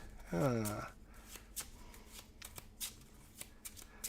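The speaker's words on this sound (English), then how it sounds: "so we just shuffle this deck back up" A deck of Marvel Champions cards being shuffled, a rapid riffle burst followed by scattered soft card taps and flicks, close by, with a brief voice sound at the start.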